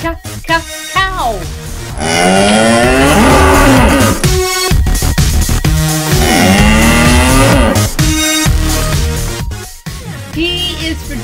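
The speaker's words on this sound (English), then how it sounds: "C is for cow." A cow mooing loudly and close, with long drawn-out lowing calls separated by brief pauses.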